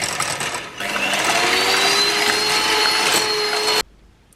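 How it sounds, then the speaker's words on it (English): An electric whisk whips double cream for chocolate eclairs, a loud, steady motor whine that rises slightly in pitch partway through and then cuts off abruptly near the end, with no talking. "With an electric whisk."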